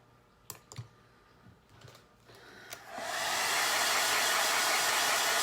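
A handheld hair dryer starts up after a few light clicks and then blows in a loud, steady whoosh close by, drying freshly painted floral art.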